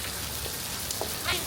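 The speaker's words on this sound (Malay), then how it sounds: "sekarang tengah hujan lebat dekat Singapura" Heavy rain falling in Singapore, a dense, steady hiss of rain on surfaces that fills the background evenly, with a few faint brief sounds rising over it and no clear talking.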